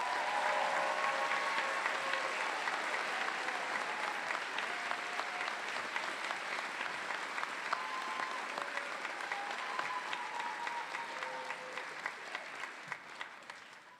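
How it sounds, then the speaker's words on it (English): Sustained applause from a commencement audience honoring medical sciences graduates, dense steady clapping filling a large hall and tapering slightly toward the end. "Let's give them a round of applause."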